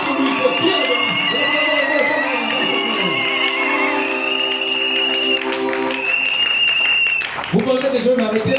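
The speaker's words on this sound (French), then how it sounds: "Vous acclamez très fort pour lui." A church congregation applauds and cheers loudly for a pastor, a steady roar of clapping and shouts mixed with voices and ringing tones throughout.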